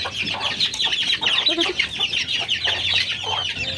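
Hens cluck and murmur continuously up close, overlapping soft calls with a few sharper notes, no talking.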